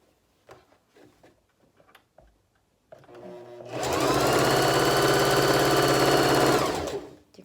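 A few soft clicks and handling taps lead into a sewing machine stitching face mask fabric, a loud, close, continuous whirring run of about three and a half seconds that then winds down.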